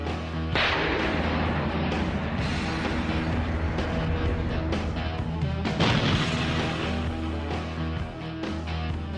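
Loud, continuous heavy gunfire from a Tunguska M1 anti-aircraft system, with rapid bursts and booming blasts, dense and sustained without pause, with no speech.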